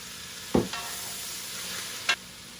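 Japchae is stir-fried in oil in a cast iron pan, giving a steady soft sizzle with two sharp scraping stirs about a second and a half apart, close and with no voices.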